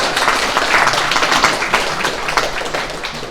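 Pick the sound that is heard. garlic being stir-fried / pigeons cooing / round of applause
round of applause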